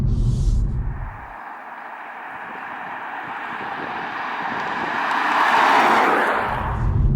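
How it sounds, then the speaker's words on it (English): A tuned BMW G20 320d, a 2-litre diesel saloon, accelerating hard with a broad, steady engine roar that swells toward the end, a continuous pass without talk. "it is quite apparent when you just put your foot down and the car just shoots off"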